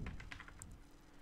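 Keystrokes on a computer keyboard while an email address is entered into an Outlook calendar sharing box, a quick run of light clicks, close and fairly quiet, with no voice.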